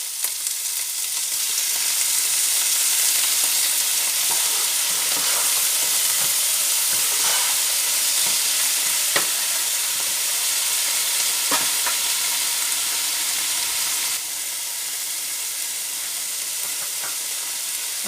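Young onions and seasoning frying in a pan for chicken with celery, a steady close sizzle and hiss with scattered crackles and stirring scrapes throughout.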